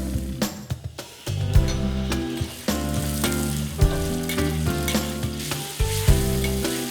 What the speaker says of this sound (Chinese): 接下来先炒熟芹菜，倒入香干和肉丝翻炒